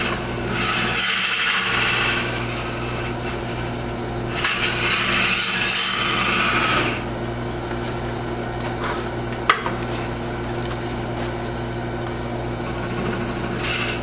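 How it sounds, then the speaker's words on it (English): A Hunter carbide cutter scrapes Norfolk Island pine spinning on a wood lathe, a continuous motor hum under rough cutting bursts that swell and fade, with one sharp knock near the end. "I've still got the Hunter cutter on there, which is the carbide cutter."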